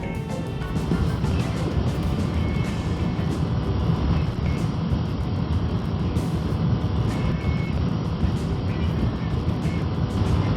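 A Kawasaki Ninja 7 HEV hybrid motorcycle accelerating up through the gears on the road, a steady rumbling engine drone mixed with heavy wind rush, continuous and loud throughout.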